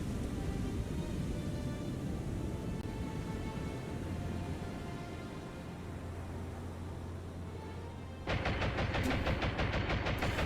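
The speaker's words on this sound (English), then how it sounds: "The enemy is engaging with the 20mm Oerlikon as they try to slip below the waves." 20mm Oerlikon anti-aircraft guns firing during a naval battle in the game War On The Sea: a continuous dense rattle of rapid gunfire over ship noise, growing louder and sharper in the final seconds, with no talking.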